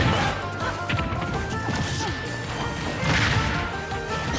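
Smash attacks landing in a Super Smash Bros video game match, loud repeated crashing hits and thwacks over busy game sound and background noise, with faint voices underneath.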